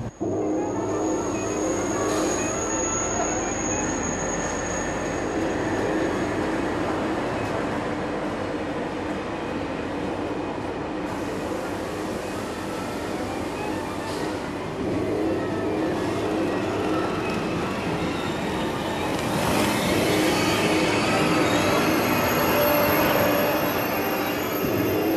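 Train rolling on rails at an interconnection station, a long steady rumble with high wheel squeal running throughout and swelling louder toward the end, no voices.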